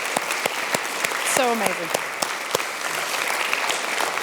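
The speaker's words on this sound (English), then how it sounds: "Can we give Phillip another huge round of applause?" Audience applause after a live piano performance of Debussy pieces in a seminar setting, dense and sustained with a few sharp individual claps standing out; a voice briefly speaks over it.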